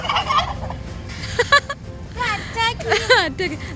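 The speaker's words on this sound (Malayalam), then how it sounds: "കോഴിയെല്ലാം ഇവിടെ ഇവിടെ വളർത്തുകയാണ് ഇവിടെ ഫാമാണ് കേട്ടോ" Chickens call out in short, rising bursts across a farmyard, several cries overlapping at close range amid background noise.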